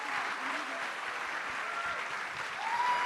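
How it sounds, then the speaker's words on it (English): Audience applause at a Comic Con cosplay contest on a main stage, a steady wash of clapping from a large crowd, sustained throughout and swelling slightly at the end. "Applause! Applause!"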